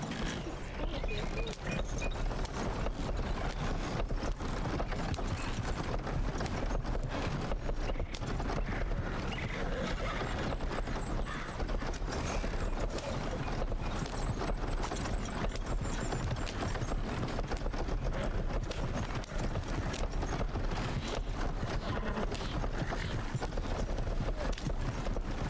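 Horses' hooves clip-clopping in a Red Dead roleplay game, a dense continuous patter of hoofbeats, fairly close and steady, running the whole time under a busy, noisy mix.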